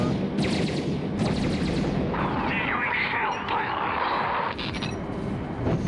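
Space combat weapons firing in StarLancer, rapid bursts of laser and cannon fire with crackling explosions over a dense rumbling bed, loud and continuous, with voices speaking over it.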